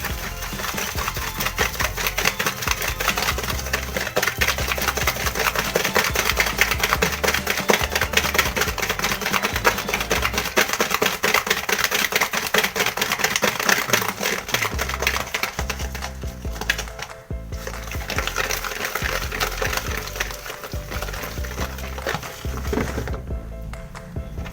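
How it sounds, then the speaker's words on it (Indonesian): Egg batter for a steamed cheese sponge cake is whisked by hand without a mixer, giving a fast, continuous rattling whir of a whisk against a bowl that runs nonstop at close range. "Lalu aku kocok keempat bahan tersebut tanpa menggunakan mixer"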